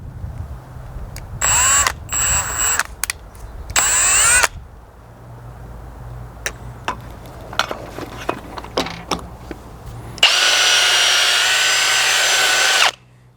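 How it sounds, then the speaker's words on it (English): Reamer spun by a hand drill cutting cylinder head valve guides on a 7.3 IDI diesel, several short loud whirring bursts with pauses and clicks between, ending in a longer sustained run, close by and without talk. "So I've got my reamer on a hand drill"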